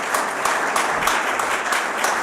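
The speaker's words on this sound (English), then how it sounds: "I think they deserve a round of applause for singing in Chinese." Congregation at a Unitarian Sunday service applauding a choir, a steady crowd of clapping hands from a moderate distance, with no talking.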